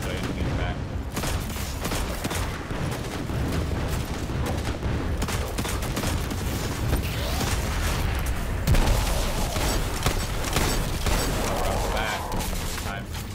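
Dense gunfire in the Destiny 2 video game inside the Scavenger's Den lost sector, rapid overlapping shots and booms in a continuous loud barrage, with a voice talking underneath.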